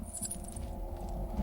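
A short metallic jingle of keys being picked up in the video game Slendrina 2D, light clinks over a quiet background hum.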